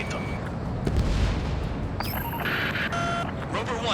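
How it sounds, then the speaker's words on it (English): Missile strike exploding on an aircraft in the video game Ace Combat 7, a deep booming blast followed by rumbling and high-pitched electronic alarm tones, loud and dense. "Roper 1 hit by a missile"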